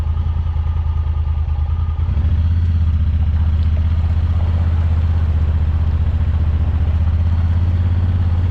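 A Honda Talon side-by-side rumbles as it drives over storm-damaged rural property, its loud, close engine steady and droning with a deeper, stronger note once it pulls away after a couple of seconds.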